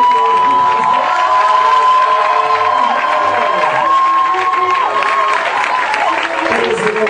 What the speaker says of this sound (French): On va acclamer très fort le Seigneur.